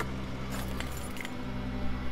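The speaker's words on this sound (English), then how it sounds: "Okay, taking the keys out." Keys jangle and clink in Outlast as they are pulled free, a short metallic rattle over a steady low game hum that fills the whole moment.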